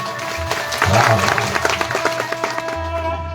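A devotional katha audience claps along in rhythmic bursts, moderately loud, while a voice talks over it and then fades out.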